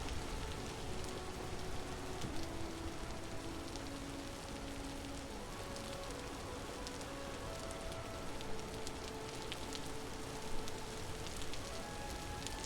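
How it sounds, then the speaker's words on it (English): Steady rain falls outside in the survival game Vintage Story, a soft continuous hiss with scattered drop taps held at an even, quiet level throughout, with no talking over it. "Hearing the rain outside"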